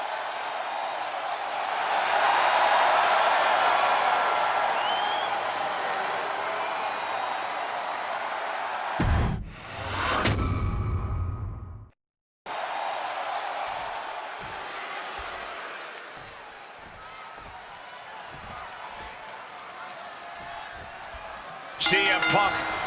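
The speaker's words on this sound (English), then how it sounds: "And just listen to this crowd here in Chicago." An arena crowd in Chicago in the wrestling video game WWE 2K26 roars as a steady, loud wash of noise. It drops out sharply for a moment in the middle, then resumes at a slightly lower level.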